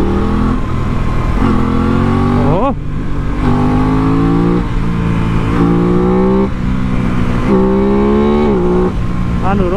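An Aprilia RS660 sport motorcycle in race mode is revved hard several times in a row, each sharp rising blip of the engine falling back to idle, loud and close, with a voice talking over it.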